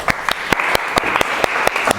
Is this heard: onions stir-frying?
no